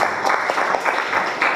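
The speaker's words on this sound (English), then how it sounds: "So give them a big round of applause" An audience at a Diwali celebration in Richmond Hills applauds, a steady, dense wash of many hands clapping at close range, even and sustained throughout the brief stretch.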